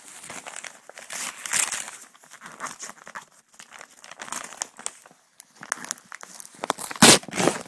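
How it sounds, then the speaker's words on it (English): A sticker is ripped off the packaging of a boxed figure amid crinkling plastic and cardboard, with irregular close rustles and a sharp loud tear near the end. "I'm gonna rip this sticker."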